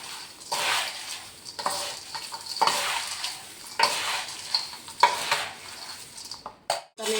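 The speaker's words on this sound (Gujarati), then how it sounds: "હવે મિક્સ કરી લઈશું બધું" A spoon stirs and tosses poha chivda, a flattened-rice snack, in a pan with a soft scraping, rustling rhythm and faint sizzle. The sound is close and steady, with occasional clinks against the metal and no voices.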